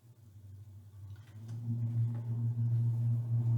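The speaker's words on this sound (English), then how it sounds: "there's a car going by. Or a truck. Loud." A car or truck passes outside, a loud low rumble that swells from about midway and stays heavy and steady to the end, with no talking.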